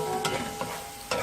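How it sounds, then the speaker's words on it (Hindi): Chicken pieces in oyster and vinegar sauce with spices sauté in a pan, a quiet sizzle broken by a few soft stirring scrapes, with no talking. "और साथ ही ये ऑयस्टर और विनेगर सॉस, और ज़रा सा इसको 1 मिनट सौते कर लूँगी"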